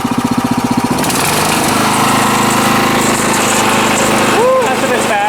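An engine on a secondhand outdoor machine idles loudly up close with a steady rumbling chug, a rapid pulsing at the start giving way to a continuous mechanical drone with rattling overtones.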